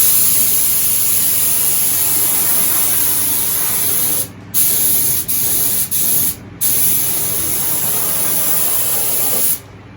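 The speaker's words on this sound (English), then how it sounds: "Man, I love spray painting." Steady, loud hiss of an aerosol spray paint can painting a cabinet, held continuously with a few brief pauses where the nozzle is released, then resumed.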